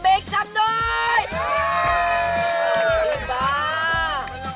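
A live crowd at a street party at the QC Circle in Quezon City cheers and shouts loudly on a host's cue, with sustained whoops and yells that carry on steadily after a few short bursts at the start.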